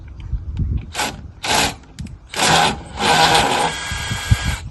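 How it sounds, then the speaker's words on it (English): An impact wrench or drill backs out the bolts of an old caravan stabiliser leg, several short whirring bursts with pauses between them, close and fairly loud, over faint background noise. "you use a rattle gun or a drill"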